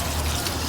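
Cold water running steadily from a water cooler at a mosque in Makkah, a close, continuous pouring and trickling rush with no talk.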